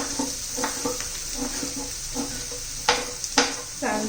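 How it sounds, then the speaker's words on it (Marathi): Stale bhakri chivda being sautéed and stirred in a pan gives a soft, steady sizzle with repeated scraping stirs and a couple of sharper clatters near the end. "चांगलं परतून घेऊया"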